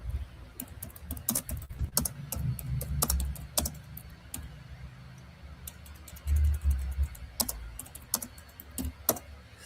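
Typing on a computer keyboard, close by, with irregular bursts of key clicks and pauses throughout, alone with no talk.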